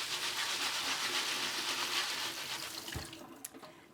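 Tap water runs over chickpeas in a strainer, a steady rushing splash that eases toward the end with a few small knocks and drips.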